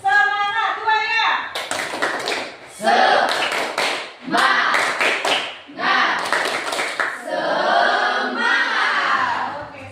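Seventh-grade Indonesian classroom where students clap together in several rhythmic bursts between a teacher's spoken prompts, the group clapping loud and close with children's voices mixed in.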